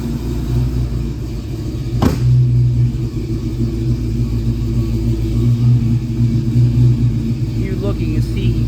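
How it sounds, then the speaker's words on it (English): A 1970 Ford Mustang coupe's 347 V8 engine idles with a deep, steady rumble close by, with one brief sharp knock partway through and a person talking over it. "Engine sounds amazing."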